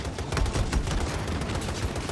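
Rapid, continuous gunfire fills a Battlefield 2042 match, heard as dense overlapping bursts of shots, loud and close, with no talking.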